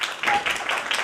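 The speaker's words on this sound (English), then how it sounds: "Please clap for it." Audience clapping at a cyber security workshop, brief scattered claps from a room of participants, moderately loud and close, with no talking over them.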